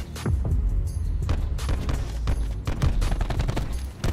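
Rapid, dense gunfire from the shooter video game Call of Duty Black Ops 4, loud and continuous bursts with heavy low-end thump throughout, no talking.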